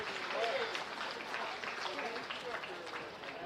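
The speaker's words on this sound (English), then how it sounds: "Let's have another round of applause for our judge this morning, Art Hamrick." Faint audience applause for the judge at a county fair beef show: a soft, steady wash of clapping throughout, heard from a distance in an open space.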